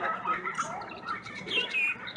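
A pet bird calls in a run of chirps, tweets and squawks, close and fairly loud, continuing through the whole stretch with no talk over it.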